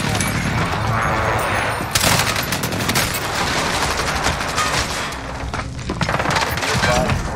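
Sustained automatic gunfire and bursts of shots from the video game Warzone, a dense, loud barrage running throughout with heavy booms and a brief dip near two seconds.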